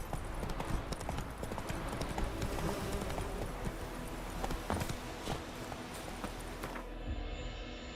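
Hooves of Roach, a horse in The Witcher 3, clip-clop in a steady galloping rhythm, close and continuous, over a dense game soundscape, with a brief whinny possible and the sound thinning near the end.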